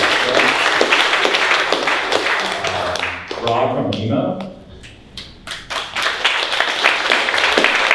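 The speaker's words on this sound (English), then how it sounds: "Give a round of applause." A summit audience applauds as panelists are welcomed onstage, clapping loud and close through most of the stretch, with a host speaking over it and a brief lull midway.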